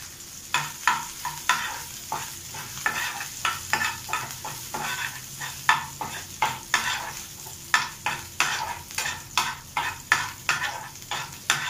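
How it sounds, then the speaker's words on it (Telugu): Chopped green chillies and two dried red chillies frying lightly in oil for paneer 65, with a continuous sizzle broken by a rapid, regular series of spatula scrapes and taps against the pan, close and without talk. "అలాగే ఎండుమిరపకాయలు ఒక 2. సో ఇది కొంచెం లైట్గా ఫ్రై అవ్వాలి"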